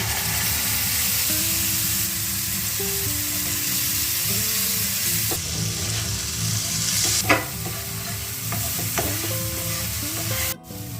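Spice paste with asafoetida sizzles and crackles in a little hot oil while a utensil scrapes and stirs the pan, a steady loud hiss with occasional sharper scrapes.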